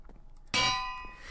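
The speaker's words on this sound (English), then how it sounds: "I would use anvils for those because those look sturdy and they make a really cool clanking sound" A single sharp metallic clang as an anvil is set down in Minecraft, ringing out and fading over about a second after a quiet lead-in.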